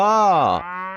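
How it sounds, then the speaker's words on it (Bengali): A single cow moos close and loud, a long drawn-out call that dips and trails off. "গরু বাছুর দাঁড়িয়ে আছে"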